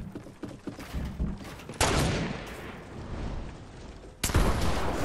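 Game gunfire crackles in a video game, with scattered shots early on, then loud sustained bursts of shooting that fade briefly before another loud volley near the end.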